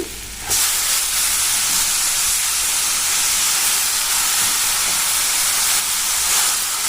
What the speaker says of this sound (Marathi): आता ह्याच्यात आपण आता गवारीची शेंग टाकून घेऊया